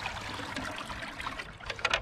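Comfrey liquid feed poured from a container into freshly dug planting holes on an outdoor UK allotment, a steady close trickle and splash of liquid that breaks into brief gurgling splashes near the end.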